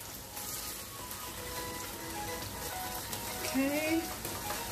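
Paneer sizzling in a pan as sauce is added and mixed in, a faint steady frying hiss with light stirring and a voice talking over it.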